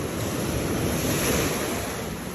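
Loud ocean surf crashing continuously onto a beach, a steady roaring wash of breaking waves with wind noise buffeting the microphone throughout.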